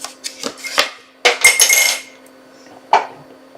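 Scissors dropping onto a hard surface among crafting items, a few sharp metallic clatters and clicks, close and fairly loud, with quiet pauses between.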